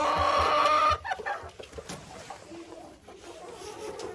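Hens clucking in a straw-filled nest box where the first egg has just been laid, a loud burst of clucks at first, then softer scattered calls and rustling.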